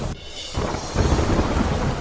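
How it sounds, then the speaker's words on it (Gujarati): Heavy downpour in Moradabad, Uttar Pradesh, a broad hiss of pouring rain that drops briefly and then swells back to a loud, dense wash with deep low rumbling. "ઉત્તર પ્રદેશના મુરાદાબાદમાં ધોધમાર વરસાદ"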